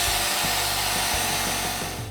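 A handheld hair dryer blows steadily on hair wound around a roller, a loud continuous whooshing airflow with a low motor hum, holding level throughout and easing slightly at the end.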